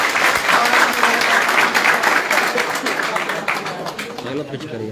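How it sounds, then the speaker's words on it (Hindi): An audience at a BJP party-joining event in Jammu breaks into loud, sustained applause that swells and then tapers off, with a voice emerging faintly beneath it near the end. "मैं जोरदार तालियों से इनका यहाँ"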